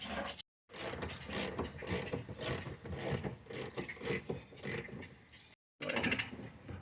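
Coilover bolts on a 1993 Mitsubishi 3000GT are loosened with a ratcheting tool, rapid clicking ratchet bursts with metallic scraping, close and fairly quiet, broken by two brief silent gaps, with no talking.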